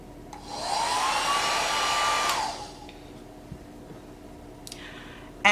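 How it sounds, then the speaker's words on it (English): Mini 800 watt hair dryer switched on for about two seconds, a steady close whirring blow with a rising whine at start-up, then clicking off to near quiet with small handling taps. "new mini hair dryer that I can take with me almost anywhere that I go"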